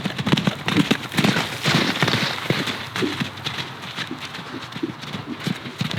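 Horse hooves clip-clopping at a walk outdoors among several horses, an uneven run of close, distinct hoof knocks with some rustling between steps.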